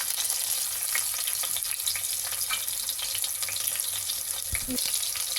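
Onion added to a hot pan and frying for plain khichdi gives a dense, constant sizzle, with a brief clunk of utensil contact near the end.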